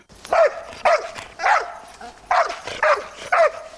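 A year-and-a-half-old search and rescue dog barks six times in two groups of three during a search drill for a person up a tree, each bark sharp, loud and close, with brief pauses between them.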